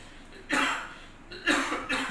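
A few harsh coughs close by, coming in two bursts with a brief pause between them, without any talking.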